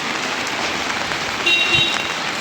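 Monsoon rain pours in Pune, a close, continuous hiss of drops hitting surfaces, with a slightly heavier patter midway.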